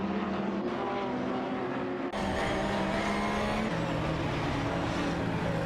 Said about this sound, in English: Laserloxt in the Lamborghini Gallardo GT3 is pushing hard against Dakota Snake in the Porsche 911 997 GT3 RSR